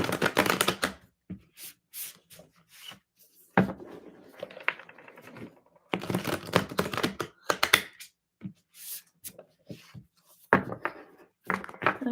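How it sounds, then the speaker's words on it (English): Tarot cards being shuffled by hand in a series of crisp riffling bursts and soft taps, close and fairly quiet, with pauses between the shuffles and no talking. "last shuffle"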